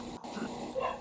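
Dogs barking and yipping at a distance, several overlapping calls mixed with background noise and faint voices.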